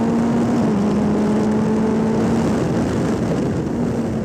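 A British GT race car on a push lap, its engine a loud steady drone with a sustained tonal whine that shifts slightly in pitch, heard from inside the car with no talk.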